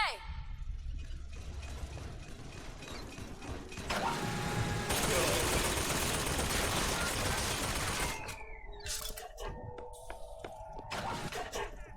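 Turret gunfire in Bioshock Infinite, a rapid clattering volley that swells into a dense, loud burst mid-way, then gives way to clanks and scattered sharp impacts.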